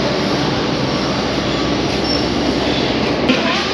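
Train rumble at a railway station, reached from a metro station: a steady, loud broadband roar of rolling stock with faint metallic squeals, continuous throughout with no talk.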